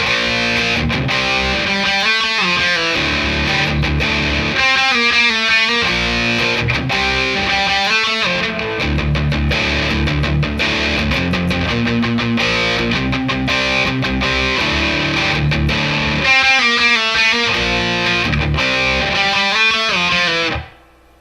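Distorted electric guitar plays the verse riff of a song, looping the same chugging palm-muted pattern loud and steady for about twenty seconds with no talking.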